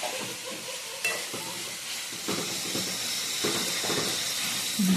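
Chicken pieces frying in a hot pan, stirred with a spoon: a steady broadband sizzle under intermittent scraping strokes, fairly close and continuous without any talking.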